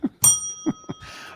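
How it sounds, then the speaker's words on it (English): An engraved podcast bell commemorating episode 100 gives a single bright ding with a lingering ring, struck in a live studio among brief low thumps and faint room noise. "we'll say hello to the world famous Blackcast bell, which is engraved to commemorate episode 100"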